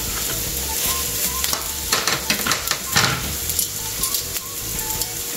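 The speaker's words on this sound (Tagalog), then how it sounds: "Saute garlic and onion." Garlic and onion sauteing in a pan, with a steady close sizzle of frying and intermittent scraping stirs and light clinks of a utensil against the pan.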